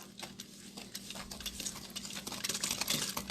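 Sugar is mixed into apple dumpling cake batter in a bowl with a hand gadget, giving soft, continuous scraping and swishing strokes close up, quiet and unbroken by talk.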